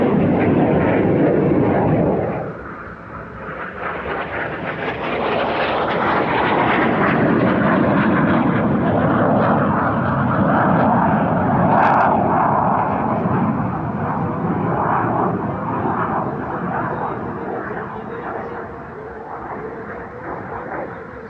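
An IAR-99, a Romanian-designed jet trainer, flies at an airshow, its loud, steady jet roar filling the air throughout and rising slightly after a brief dip near the start.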